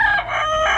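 A short, close Ayam Cemani rooster crow, loud and harmonic, cut off after under a second.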